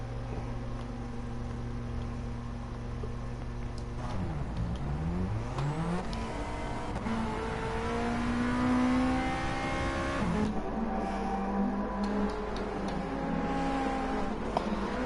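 BTCC race cars roll out of the pit lane at Road Atlanta, their engines droning and revving as they pass. The pitch rises and falls with each car, and the sound is moderately loud, steady and continuous.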